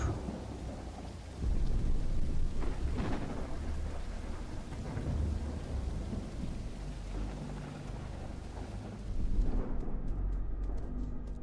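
A thunderstorm rolls through a Nordic fantasy adventure video game, with steady heavy rain and loud, deep rumbles of thunder swelling twice before the storm cuts off abruptly near the end.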